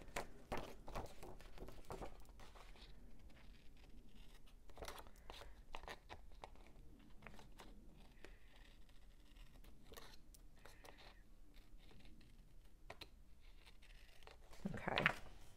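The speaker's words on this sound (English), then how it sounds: "Let's cut the excess off." Scissors snip and crunch through excess paper on a Happy Planner page in a series of quiet, irregular close cuts, with soft rustling of paper around them.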